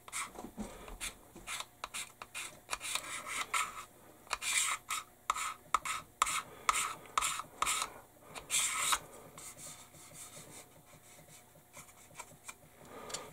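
Seam lines on an Airfix 1/72 B-17G plastic model kit being scraped: close, repeated rasping strokes in an uneven rhythm, each a short dry scrape, with no talking.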